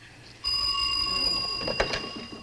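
An old-fashioned telephone bell rings steadily in a home, a bright sustained ring that starts abruptly and carries on, with faint movement and room noise beneath it.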